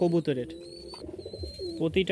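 Giribaz pigeons coo in low, throaty rolls, repeated several times close by, with a thin steady whistle-like tone running in the background.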